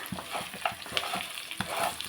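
Chicken fry sizzles in a pan while a spoon stirs it in short, repeated scraping strokes over a steady hiss, close up, with no talking.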